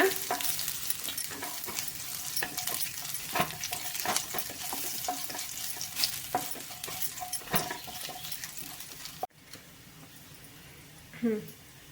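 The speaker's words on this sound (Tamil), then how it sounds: "பூண்டு சேர்த்தோனையுமே ஒரு நிமிஷத்துக்கு எண்ணெயிலே வதக்கிக்கோங்க" Garlic cloves and curry leaves sauté in hot oil in a home kitchen, a continuous sizzle punctuated by repeated scraping stirs of a spoon against the pan, with a brief pause near the end.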